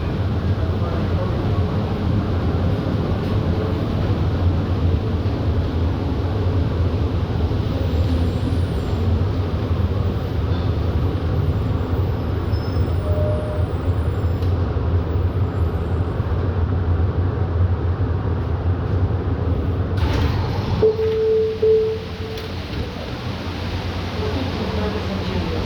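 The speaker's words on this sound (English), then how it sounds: "Hold on, the train is approaching." A Tri-Rail commuter train pulls into a station between Miami and West Palm Beach, a steady loud low rumble and hiss running throughout, then a brief brake squeal and a drop in level near the end as it slows.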